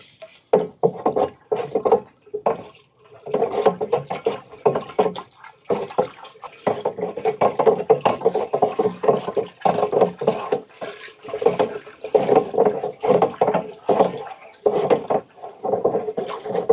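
Plant nutrients are stirred into rainwater for peppers with a mixer, giving bursts of churning, sloshing water that start and stop in an uneven rhythm, close and fairly loud, without speech.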